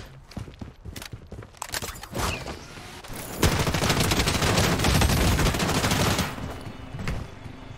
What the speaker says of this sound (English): I wasn't ready for that gunfight.